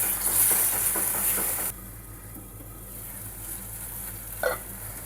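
Soya chunks mixed with soy sauce are stirred in a pan, giving a close, soft sizzle with scraping strokes, then the sound turns quieter with a faint hiss and one sharp clink near the end.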